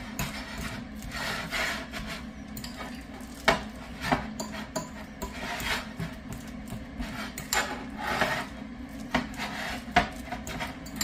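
A quarter cup of oats being mashed around in a mash mix, with steady scraping and rubbing of a utensil against a bowl, close and continuous, broken by occasional sharper knocks.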